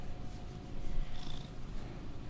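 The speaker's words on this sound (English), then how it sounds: "listen to him purr. He's purring." A cat purrs steadily close by, a soft continuous rumbling purr with gentle rhythmic swells, heard alone without talk.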